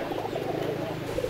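Domestic pigeons coo softly in a short low burble, close but faint against background murmur.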